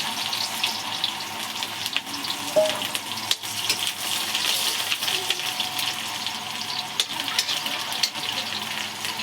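Onions dropped into hot oil already crackling with garlic and cumin give a steady, close, bright frying hiss that runs unbroken with no talking.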